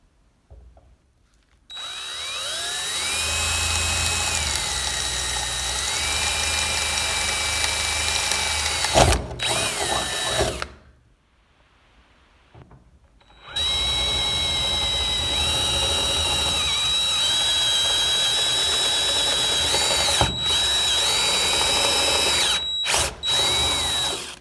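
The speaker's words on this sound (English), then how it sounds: "I'll pilot drill it probably 1/8 and then drill it out to 1/4 inch for the bolt." A power drill whines steadily as it bores pilot and 1/4-inch bolt holes into a blast cabinet, pausing briefly midway before starting again for a second long run, close and loud.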